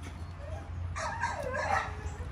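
An American Bully mother dog at play with her two grown sons, giving soft whines and short yips over a low steady rumble, with the vocal cries growing louder and more active in the second half.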